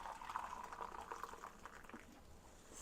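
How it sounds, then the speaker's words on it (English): Hot water pours steadily into a container, a bubbling, gurgling stream that stays fairly even and quiet throughout. "fill it with this boiling water"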